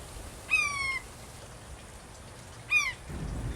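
A green jay mimics a hawk call with two distinct, piercing descending screams a couple of seconds apart, moderately close over a quiet outdoor background.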